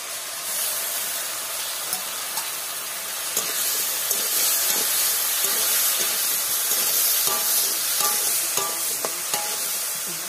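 Green chili paste and garlic go into a pan with turmeric and potatoes, giving a loud, steady, hissing sizzle with faint stirring taps throughout.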